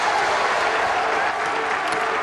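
A big crowd at a bowling World Championship tournament breaks into loud, sustained applause, a dense wash of clapping filling the whole moment.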